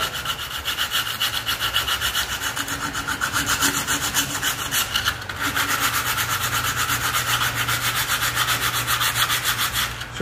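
Coarse iron sandpaper rubbed steadily by hand over a tricycle, a continuous rapid scratchy rasping of even strokes that carries on without pause and without any voice.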